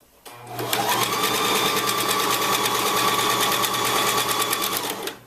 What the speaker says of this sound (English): you're going to go ahead and do a 1/4 inch straight stitch